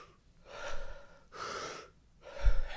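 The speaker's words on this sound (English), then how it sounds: "it's 10 super deep breaths" Deep breathing exercise: three slow, heavy, close breaths with long airy pulls and pauses between them, the last ending in a sharper gasp, no talking.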